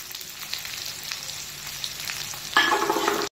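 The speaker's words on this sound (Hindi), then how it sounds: "तब इसमें अब हम प्याज डाल देंगे।" Onions dropped into hot oil in a pan for a carrot and pea curry, with a steady background sizzle that jumps into a louder, crackling fry near the end, close and without speech.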